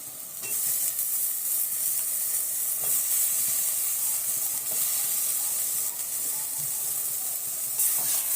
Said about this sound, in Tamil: இதையும் நல்லா வதக்கி விட்டுடலாம்